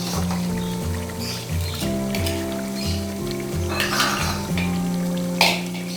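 Boiled potatoes going into a pot of cooked chicken for biryani and being stirred, with a steady sizzle of frying and clinks and scrapes of a utensil against the pot, close and continuous, over a low background hum.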